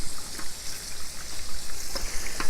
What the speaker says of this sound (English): Now, turn the water off so you can hear me a little bit better.